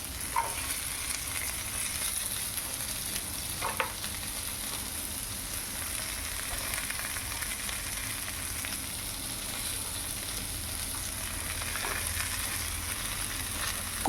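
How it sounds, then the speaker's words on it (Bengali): Jackfruit, potato and chopped onion frying together in a pan, cooked for a jackfruit biryani; a steady, moderately quiet sizzle runs throughout with a few faint clicks of stirring. "তাহলে এঁচোড়টা সেদ্ধও হয়ে যাবে আবার একটু ফ্রাইডও হয়ে যাবে"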